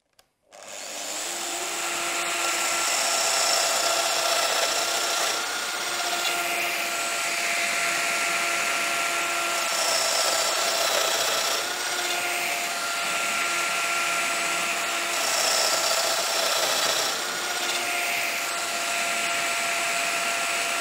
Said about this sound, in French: Je positionne la machine exactement au niveau de chaque marquage et je fraise les 4 mortaises.